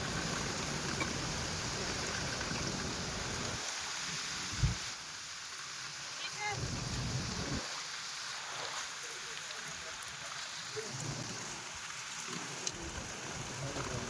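Heavy rain from a Kalbaishakhi storm pours steadily, a continuous wash of hiss that swells and dips in volume, with one brief knock partway through and no clear speech.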